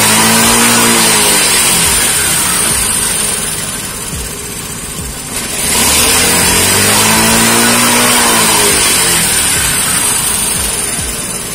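A Suzuki Choi Nori 50cc two-stroke mini motorbike engine revs loud and close, droning steadily, easing off briefly, then climbing back to a sustained high rev.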